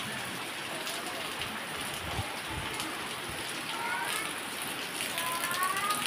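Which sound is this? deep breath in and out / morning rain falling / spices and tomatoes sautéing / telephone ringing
morning rain falling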